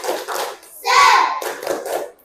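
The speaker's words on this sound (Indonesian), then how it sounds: "Ayo kita kasih tepuk semangat buat Ryan" A classroom group of children does a short patterned cheer clap for a classmate named Ryan, a few quick bursts of hands close by, with a brief shout in the middle.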